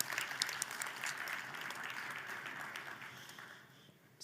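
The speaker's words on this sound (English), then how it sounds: "Let's give him another round of applause." Applause from a conference audience on an event stage, a dense wash of clapping that starts strong, then slowly thins and fades over about four seconds.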